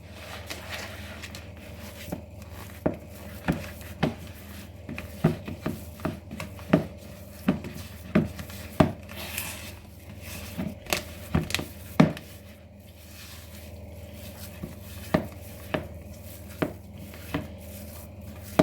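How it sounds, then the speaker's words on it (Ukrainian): A utensil scrapes and knocks around a bowl while syrnyk batter is mixed, with irregular close taps and clicks over a low steady background. "Добре перемішуємо."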